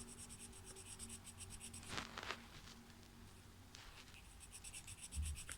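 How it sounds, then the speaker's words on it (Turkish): A pen scratches across paper while drawing a Minecraft-style heart, soft close scribbling strokes at a quiet level, with a couple of brief louder rubs midway. "sol elimde kalem çiziyorum"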